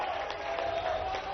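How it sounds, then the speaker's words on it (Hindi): Crowd at an outdoor public development-project event in Datia, Madhya Pradesh, clapping in a steady, dense wash of applause, with a faint sustained tone running underneath. "ताली वाली बजा के बताओ।"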